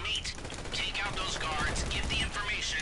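Rapid gunfire in the GTA 5 video game, rattling in quick mechanical bursts at moderate loudness, though the exact gun cannot be told apart.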